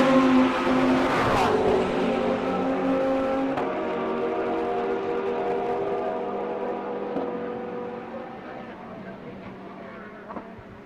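Race cars in a circuit race roar past on the track, one high-pitched engine note swelling up close and then fading into a distant, buzzing drone as the cars pull away.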